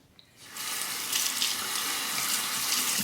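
A tap runs steadily into a sink for rinsing a straight razor during a shave, a continuous hiss of water starting after a brief quiet moment and staying loud and close throughout.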